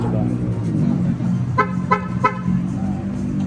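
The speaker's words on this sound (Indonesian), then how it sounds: "kita juga bisa cari mobil dengan cara nyalakan horn sama flash" A Wuling Almaz RS sounds its horn by remote three times, short sharp toots in an even rhythm. A parked-car hum sits underneath, and people talk around it.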